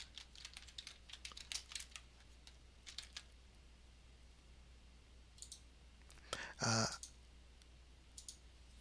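Quiet, close keystrokes on a computer keyboard come in short irregular runs of clicks, with one louder tap near the end over a faint steady hum.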